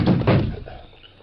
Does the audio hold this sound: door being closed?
yes